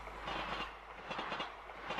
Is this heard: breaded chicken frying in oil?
no